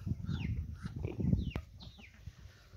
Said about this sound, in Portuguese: ó galinha comendo pãozinho aí, logo cedo de manhã